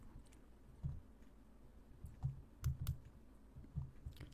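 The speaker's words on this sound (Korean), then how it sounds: "뒤쪽에 있는 투명한 원통 선택합니다. Shift와 함께 클릭" Mouse clicks while shift-selecting shapes such as a transparent cylinder in 3D software: several soft, close clicks in scattered pairs and singles over a quiet background.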